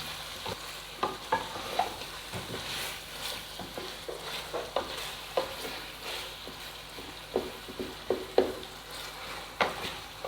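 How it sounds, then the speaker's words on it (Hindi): Garlic and ginger fry in a pan for chicken karahi with a steady close sizzle, while a spoon scrapes and taps the pan in irregular stirring strokes throughout. No one speaks. "इसको मैं लहसुन और अदरक डालकर अच्छे तरीके से भून लेती हूँ।"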